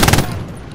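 A rapid burst of machine gun fire in the World War II shooter Hell Let Loose, set at Stalingrad, several close, loud shots in quick succession that decay into a rumbling tail.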